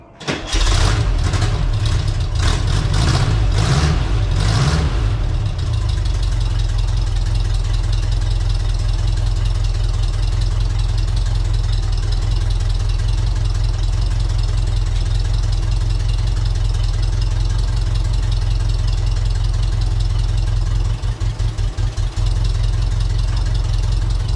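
A Volkswagen Type 4 bus engine with a newly made exhaust cranks with a few rapid bursts, catches, then settles into a steady, loud, throaty idle that runs on unbroken with no talking.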